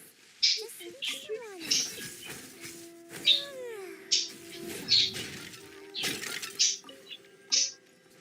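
A bird in the Genshin Impact game world gives about eight short, sharp, high chirps at a fairly even pace, standing out over lower tones and people talking.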